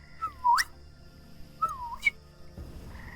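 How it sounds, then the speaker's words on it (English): Two rising-and-falling whistles in a dark outdoor scene, each a short clear swoop ending in a sharp upward flick, separated by a pause of about a second, heard alone over faint background. "And then you hear another whistle."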